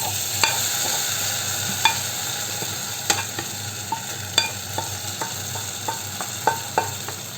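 A spoon stirs puliyinchi, a tamarind and ginger curry, in a pan, giving a string of sharp metallic clinks and scrapes at an irregular pace over a faint low hiss, with no talking.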